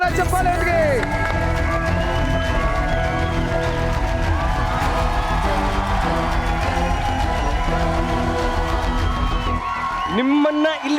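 An audience at a box cricket league event claps and cheers to welcome a guest onto the stage, with dense, continuous applause, whoops and crowd noise and music underneath, fading near the end.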